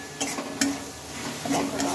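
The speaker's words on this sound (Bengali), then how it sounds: "সোয়াবিনটা আমি ভালোভাবে মশলার সাথে কষিয়ে" Soybeans fry with spices in a pan, a low sizzle punctuated by several quick scraping stirs of a spoon, close and moderately quiet.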